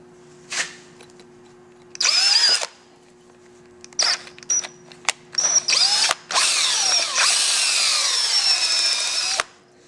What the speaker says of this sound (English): Now we can take the drill bit and kind of clean that out a little bit.